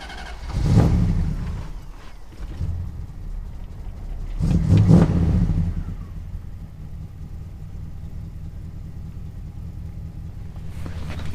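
Engine of a rare Mopar convertible, air cleaner refitted, revs up twice in loud close bursts, then settles into a steady, even idle rumble with no talking.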